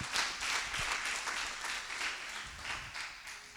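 A church congregation at a Sunday service applauds in steady, continuous clapping, heard somewhat distant and moderately loud for several seconds.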